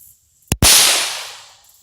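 A CZ452 rifle fires a single sharp, loud shot at an outdoor range, the crack followed by a long decaying echo that fades over about a second.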